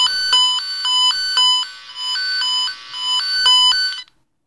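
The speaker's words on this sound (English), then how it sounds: "just demonstrating that the probe is sensitive to which particular wires the signal is coming in on" Steady warbling tone from a wire-tracing tone generator, picked up by an inductive probe on a brown wire pair, pulsing in a regular repeating beep pattern, loud and clear with no talk, cutting off at the end.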